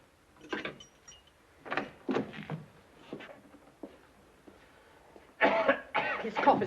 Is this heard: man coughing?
yes